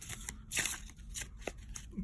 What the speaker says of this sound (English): These decks are already pre-shuffled, but I like shuffling for you guys.